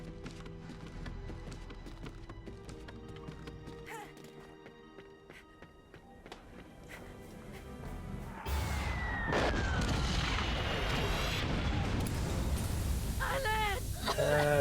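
A grenade goes off in Valiant Hearts: The Great War at Ypres, with a heavy boom and a sustained roar that follow quieter clattering and music. Someone talks over it.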